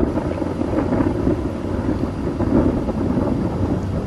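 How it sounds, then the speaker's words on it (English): Low thunder rumbles under a steady roar of gusting wind buffeting the microphone outdoors during a storm, continuous and fairly loud with no voices. "I don't know if you guys can hear that thunder rumbling, but as the wind kicks up."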